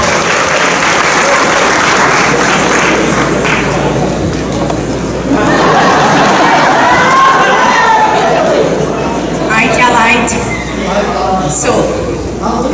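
A festival crowd applauds a young girl, clapping mixed with chatter and murmuring voices throughout, swelling in the middle before settling.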